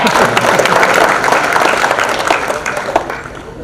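Hearty applause from the audience at an award programme in Mumbai, a dense, loud wash of many hands clapping that carries on steadily and then eases off slightly toward the end.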